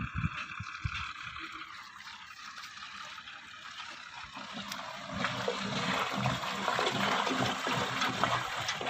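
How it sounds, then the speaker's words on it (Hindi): A tube well pumping water to irrigate a wheat field in a Sindhi village: a continuous, rushing splash and gurgle of flowing water that grows louder and fuller partway through, with no talking over it. "इस गंदम को पानी देंगे, ये देखो, इसको पानी देने के लिए ट्यूबवेल चला रहे"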